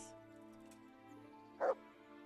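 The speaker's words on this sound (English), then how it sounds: "There's a dog." A single brief dog bark from the medieval RPG Kingdom Come: Deliverance, quiet against a steady low game ambience, with no talk.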